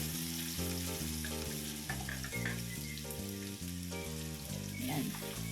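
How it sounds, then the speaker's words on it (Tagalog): Potatoes and carrots fry together in a pan for pork menudo, giving a steady broadband sizzle that runs the whole time beneath louder melodic background music. "Itong ating patatas at carrots ay pagsasabayin ko ng iprito dito sa ating kawali."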